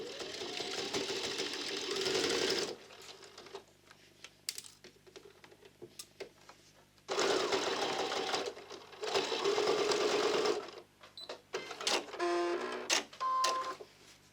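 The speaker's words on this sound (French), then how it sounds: "Il n'y a plus qu'à surpiquer." A sewing machine topstitches bias binding on a half-moon fabric coin purse in three loud, steady bursts of motor whir, separated by quieter pauses filled with small clicks and handling noises.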